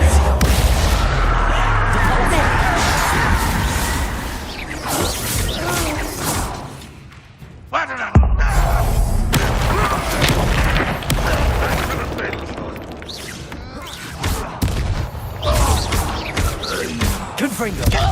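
Repeated fiery Confringo spell blasts in Hogwarts Legacy, loud booming impacts and whooshes layered with combat clatter, broken by a short lull, with voices talking throughout.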